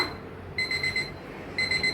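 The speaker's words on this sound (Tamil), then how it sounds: "அலாரம் அடிச்சிருச்சு, மணி 4 ஆச்சு." An electronic alarm clock beeps at 4 a.m. in short repeated bursts, two clusters of rapid high-pitched pulses separated by a pause, fairly close and clear.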